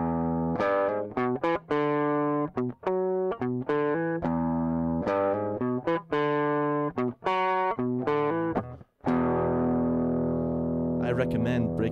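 An electric guitar with a distorted tone plays a riff as picked single notes in a repeating, rhythmic pattern, loud and close, ending on a sustained ringing note.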